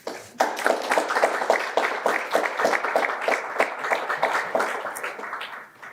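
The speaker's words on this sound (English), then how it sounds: "I'd love it if you could give a big round of applause" A full round of applause at a virtual graduation ceremony, many hands clapping briskly together for several seconds before tapering off at the end, clear and close.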